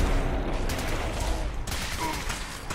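Rapid gunfire from the Fallout 4 video game, a dense string of shots crackling continuously at close range for a few seconds with no talk over it.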